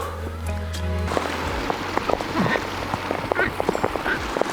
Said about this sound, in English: We've been rained on for like the last hour